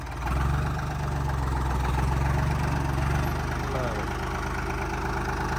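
A Ford 3600 tractor engine idles steadily with a low, even rumble throughout, while voices talk faintly in the background.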